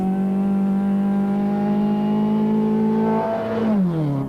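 A Datsun pickup is driven flat out on a rally stage in Zimbabwe, its engine holding a loud, strained, steady drone before dipping and climbing again near the end as the driver shifts.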